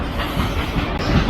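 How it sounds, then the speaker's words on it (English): A long freight train rumbles past very close on an Indian railway, a loud, steady rolling roar filling the whole moment. "there we got one train."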